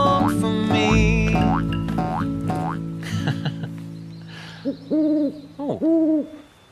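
Owl-like hoots ring out in a children's bush scene: several sliding tonal calls come first, then a few short paired hoots that sound like a voice imitating a mopoke, or southern boobook, owl.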